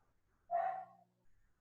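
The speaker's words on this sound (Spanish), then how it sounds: "Mis perras ladran." One of several dogs gives a single short, fairly close bark, followed by quiet.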